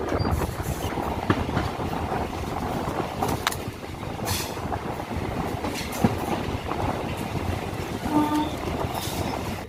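MEMU train running over rails near Ahmedpur Junction in Birbhum, a continuous rolling rumble with rhythmic wheel clatter and occasional metallic clanks from inside the carriage.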